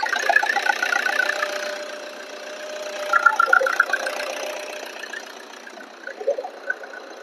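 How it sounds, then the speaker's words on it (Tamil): A used car's engine idles with the bonnet open, a steady mid-pitched hum with light knocking and faint squeals, recorded close, rising slightly in a few brief bursts with no speech. "இன்ஜின் சவுண்ட் கேக்குதுங்களா?"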